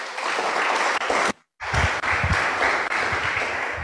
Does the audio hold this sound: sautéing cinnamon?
no